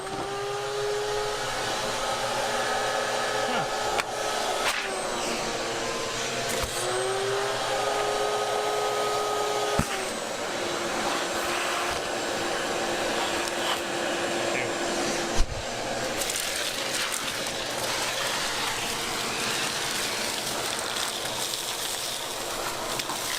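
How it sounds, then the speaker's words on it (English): A vacuum cleaner runs inside the cab of an old, long-abandoned Ford F250 where mice had gotten in. It makes a steady, close droning whine with shifting pitch as the nozzle moves, and occasional sharp knocks. "we just finished vacuuming the inside here"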